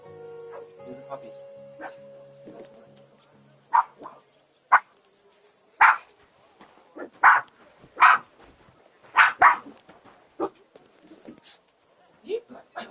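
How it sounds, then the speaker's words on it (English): A puppy in the video game Kingdom Come: Deliverance II barks in a series of short, sharp yips that grow busier toward the end. Faint tonal game sounds are heard at the start. "Here's a puppy."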